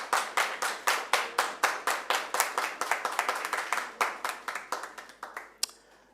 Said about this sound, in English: A round of applause to them as well,